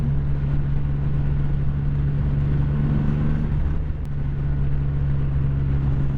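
A 2017 Triumph Rocket III Roadster motorcycle cruising steadily, its large engine giving a continuous low hum with wind rush and no pauses.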